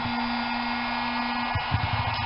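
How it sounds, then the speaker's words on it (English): A heat gun blows steadily while warming pontoon boat vinyl to loosen a corner, with a constant airy whoosh and a tonal hum, followed by a few soft handling bumps near the end. "So I got the heat gun on it."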